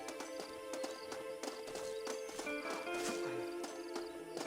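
Horse hooves clip-clop at a brisk, regular pace in the video game Red Dead Redemption on PS5. The hoofbeats are faint and sit over a dense game soundscape with music-like tones, and there is no talk.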